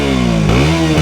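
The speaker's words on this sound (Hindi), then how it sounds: "बाकी इसका एग्जॉस्ट नोट सुनाते हैं हम आपको कि बाइक का एग्जॉस्ट नोट वाकई में कैसा है।" A KTM RC motorcycle with an underbelly exhaust revs up close, with a loud, steady engine drone that dips and climbs as the throttle blips twice.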